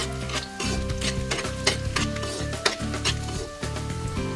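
Garlic goes into a hot pan for lomi and sizzles steadily, as a spatula stirs and scrapes the metal in quick repeated strokes with occasional sharper clinks.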